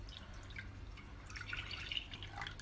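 Milk poured from a container into a cooking pan while making custard, heard as a quiet, steady trickle with faint dripping against a low background hum, and no talking.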